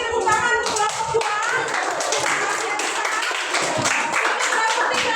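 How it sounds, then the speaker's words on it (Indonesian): Clapping from a classroom group applauding the second student team after its presentation, a dense patter of many hands that continues steadily for several seconds at fairly close range, with no speech over it. "kita beri tepuk tangan untuk kelompok 2"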